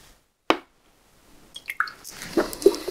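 Single drop of ebonizing liquid falls with a sharp plop, then after a pause a few more small drips and wet squishy dabs follow close by, quiet room otherwise.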